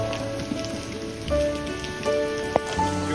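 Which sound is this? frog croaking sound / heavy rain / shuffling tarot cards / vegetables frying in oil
heavy rain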